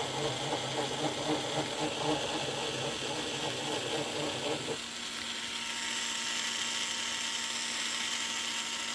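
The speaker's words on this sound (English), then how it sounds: "I want to slowly drill that hole out with this bigger bit" A small electric screwdriver whirs steadily with a buzzing, pulsing motor while drilling out a rivet hole on an HO scale model locomotive, then its pitch and texture shift partway through as it keeps running.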